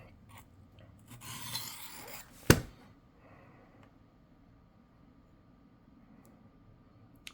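A knife blade rasps across a Work Sharp guided field sharpener in one scraping pass lasting about a second, followed by a sharp click, then near quiet.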